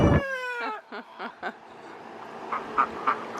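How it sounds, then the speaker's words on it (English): A chicken among a backyard flock, kept alongside Cayuga ducks, lets out a loud rising squawk at the start, followed by a series of short clucking calls nearby, with fainter calls trailing off. "Got chickens eating my feet, and then one yelling at me."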